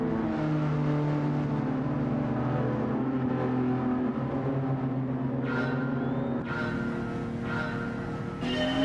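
Race car engines at the start of a race at Watkins Glen in a racing video game, including a Honda NSX and a Genesis G70, a dense steady droning roar of several motors with rising rev tones near the end.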